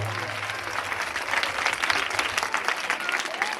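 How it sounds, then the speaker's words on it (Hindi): A church congregation applauding, dense steady clapping at a distance filling the hall, with faint voices underneath. "जोरदार तालियां, जोरदार तालियां"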